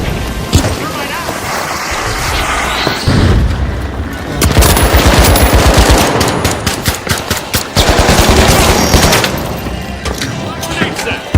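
Loud video game gunfire, bursts of rapid automatic shots and heavy booms packed densely over a noisy battle backdrop, with talk mixed in.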